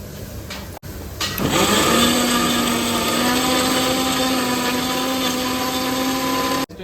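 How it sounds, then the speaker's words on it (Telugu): A mixer grinder (mixie) grinds onions into a paste, its motor starting with a brief burst and then running as a loud, steady whine with a sustained hum for several seconds before cutting off abruptly. "ఓన్లీ ఉల్లిగడ్డ ఒకటే మిక్సీ పట్టుకుంటున్నా"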